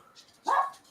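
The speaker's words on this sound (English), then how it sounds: "Sorry about my dog." Single short bark from a dog indoors, a brief sharp yelp in the background during a conversation, fairly close but not loud.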